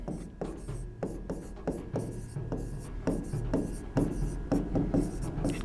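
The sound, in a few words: writing on a board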